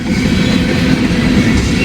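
An empty ethanol freight train rolls past nearby with a loud, steady rumble and faint clickety-clack of the wheels.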